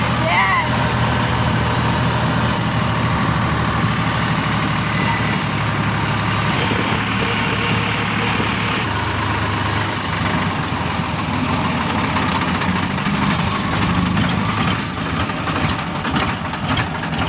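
A farm tractor engine idling, a steady low rumble that runs unbroken throughout, with people talking over it.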